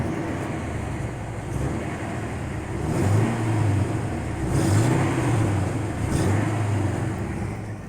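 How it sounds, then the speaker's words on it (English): Ford F-250/F-350 pickup with a manual transmission, its exhaust rumbling at steady idle with a few low revs rising and falling, heard nearby with no talk. "let me do the exhaust sound on this truck to see how this"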